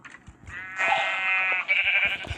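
A single drawn-out sheep bleat, loud and close, with a slightly synthetic, game-like tone and faint clicks around it.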